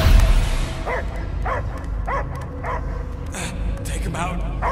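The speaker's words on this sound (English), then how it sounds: "I hear only barking" A dog in the Marvel's Guardians of the Galaxy video game barks in short, evenly spaced yelps, about six in a row, over a steady low game rumble.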